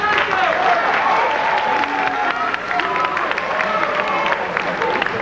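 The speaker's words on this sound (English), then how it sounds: "Clap, make some noise." A packed comedy festival crowd gives loud, sustained applause mixed with cheering and crowd murmur, holding steady for several seconds.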